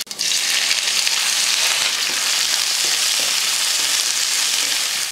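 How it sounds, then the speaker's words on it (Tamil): Onion, garlic, curry leaves and green chili sauté in hot oil in a kadai, producing a loud, dense, unbroken sizzle heard up close for several seconds with faint stirring underneath and no voices. "வெங்காயத்தோட பச்சை மணம் போகிற வரைக்கும் வதக்கிட்டு"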